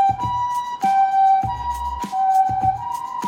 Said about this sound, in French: Oh là là, ambulance, ambulance!